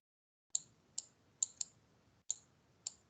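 Six sharp clicks of keys being typed on a computer keyboard, irregularly spaced over a few seconds, quiet and close, with no voices.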